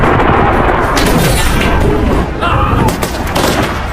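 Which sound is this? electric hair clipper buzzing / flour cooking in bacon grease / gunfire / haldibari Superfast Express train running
gunfire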